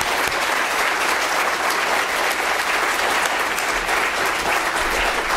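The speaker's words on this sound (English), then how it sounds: "So a big round of applause for Michelle Darling." A roomful of people at a hospital donor gift event breaks into sustained, dense applause, loud and even throughout with no talking.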